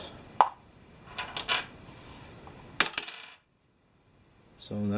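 Dice rolled on a table during a Mansions of Madness board game, several sharp clattering bursts of plastic tumbling and settling, then a brief silence.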